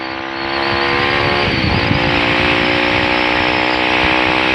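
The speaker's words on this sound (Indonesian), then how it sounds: "Kita tes bejek gas ya." A loud Kawasaki D-Tracker 150 motorcycle engine revving up and holding a steady high drone, close to the microphone, with no talking.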